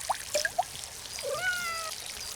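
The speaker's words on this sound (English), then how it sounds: "Get out of the way, cat." A domestic cat gives a few short chirping calls and then a longer rising meow, close by and fairly clear, over quiet background noise.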